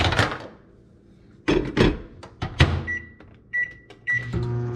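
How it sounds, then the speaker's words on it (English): A microwave oven softens a sliced croissant for a breakfast sandwich, with door clatter and handling knocks up front, then a steady running hum joined by a high whine near the end. "we're gonna microwave this for 10 seconds."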